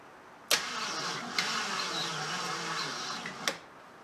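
A 1975 AMC Matador engine cranks over after sitting: a steady, close mechanical churn with sharp clicks at the start and end, and a short jolt in the middle.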